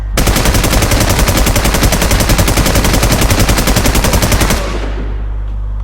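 Rapid automatic gunfire in the video game Warzone as a player shoots down a boss, a loud, sustained machine-gun stream of evenly spaced shots that stops abruptly, leaving a low hum.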